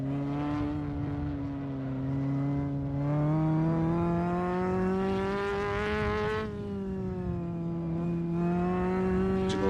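A steady engine drone from an original Porsche 718 race car in a racing video game, a smooth sustained tone that swells and eases slightly as the car drives, with no speech.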